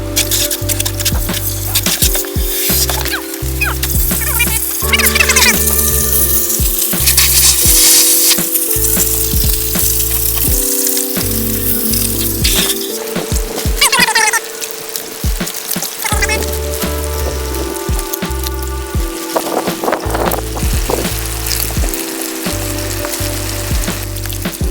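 Wild clay slurry is churned with a stick in a large container, producing loud, continuous wet sloshing and squelching with irregular splashes and thuds throughout.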